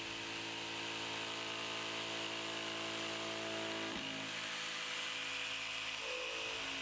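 Bosch GST 90 BE Professional jigsaw cutting with a steady, continuous buzzing drone. The blade's rapid reciprocating motion holds a constant pitch, briefly dips near the middle, then carries on, heard alone without speech.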